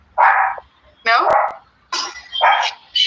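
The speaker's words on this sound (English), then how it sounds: "that's my dog barking in the background" A dog barks in the background indoors, giving four or five sharp, separate barks with short gaps between them, fairly clear and close.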